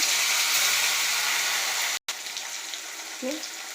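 A single chandwa fish fries in hot oil with a loud, dense, steady sizzle that cuts out for a moment and then continues slightly softer, close up and with no speech.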